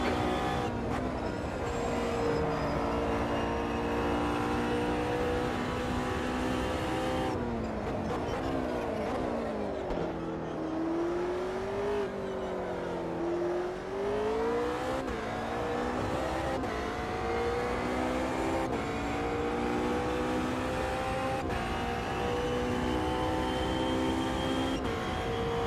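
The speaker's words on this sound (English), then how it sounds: "Faster class car approaching." GT3 race cars in a racing video game at the Kansai circuit, engines droning steadily with harmonic pitch sweeps as cars shift and pass, continuous and fairly loud throughout.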